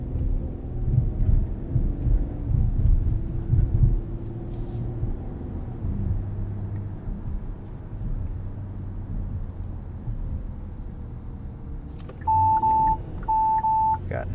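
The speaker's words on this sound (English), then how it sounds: "Got nice warnings there for your blind spots" Low road rumble inside a moving 2020 Kia Telluride SX AWD, then near the end a blind spot warning chimes twice: short, clear, evenly spaced beeps.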